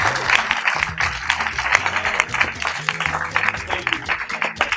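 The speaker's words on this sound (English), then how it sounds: "Can you please clap for them again?" An audience at a high school event claps in a dense, continuous burst of applause, loud and close, with a voice or music faintly underneath.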